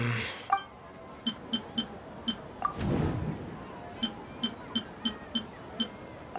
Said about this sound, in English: beep is a prompt tone for Akasha operations